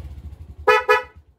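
Two short horn toots from a Smash 115 carburetor motorcycle, sounding close and loud over a steady idling engine thump.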